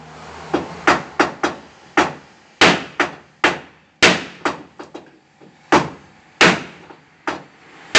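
Sharp metallic hammer blows strike a Ford Escort Mk1 car at an uneven pace, about a dozen hits with ringing decays, some in quick pairs, loud and close.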